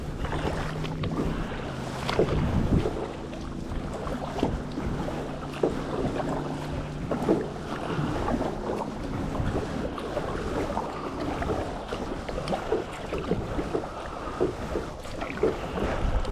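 A Pelican fishing kayak is paddled on a lake near a dam, with soft, uneven water swishes and light paddle splashes against a constant wash of wind noise.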